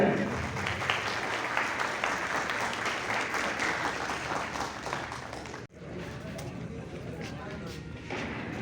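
Dense, sustained clapping from a crowd at a BJP political rally in Bindapathar, Jamtara, steady and enthusiastic throughout, with a brief dip partway before the applause carries on.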